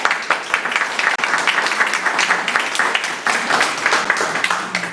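Sustained applause from an audience at a commemorative event for historian Jorge Basadre's birth anniversary, welcoming a lawyer and historian; dense, steady clapping from a crowd throughout, fairly loud, with no talk over it.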